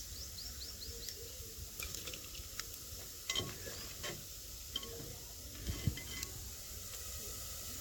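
Fish fries quietly in a pan with a steady soft sizzle, broken by occasional faint clinks and scrapes.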